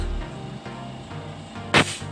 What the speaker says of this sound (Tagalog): Yan, maganda putok, malakas.